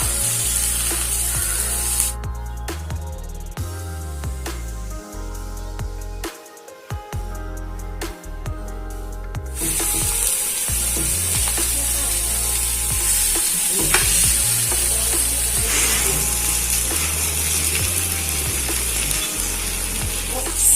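Coconut masala fish sizzles steadily in a pan, with clinks and scraping as pieces are turned over, a brief lull midway, and no voices.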